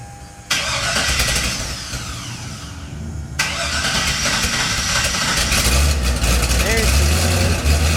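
A 1957 Chevy engine roars up sharply and revs hard while trying to squeal the tires, loud and close. The noise dips briefly, then surges again and stays strong with a rumbling low end.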